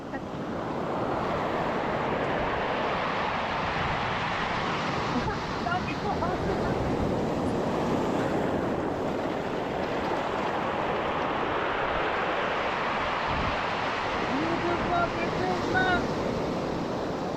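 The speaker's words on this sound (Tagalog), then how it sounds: "Galit ang dagat oh." Heavy Pacific Ocean surf rolls and crashes on a beach in a steady, continuous roar of breaking waves, with wind buffeting the microphone.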